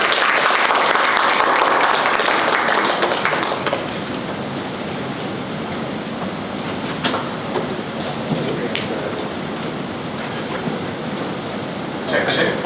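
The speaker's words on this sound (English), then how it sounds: "Can we all give them a wonderful round of applause?" Audience round of applause for panelists at a policy event on sanctions and energy security, a broad burst of clapping at the start that fades into room murmur and people talking.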